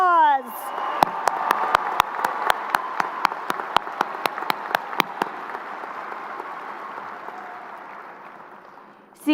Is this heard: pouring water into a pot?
no